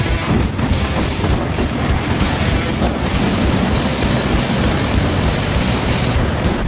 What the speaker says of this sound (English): here's what it looks like when you open a dam gate after years of being closed